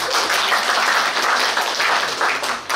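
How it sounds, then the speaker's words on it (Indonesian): Teachers at a workshop on inclusive education give a round of applause, a steady burst of many hands clapping close by that holds evenly and eases off slightly at the end. "Tepuk tangan."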